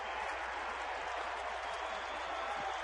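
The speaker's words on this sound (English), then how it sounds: "Now the crowd, with 2 strikes and 2 outs," Baseball crowd at a Phillies versus Diamondbacks game in Arizona, steady sustained cheering and roar with two strikes and two outs, continuous and even throughout with no talk over it.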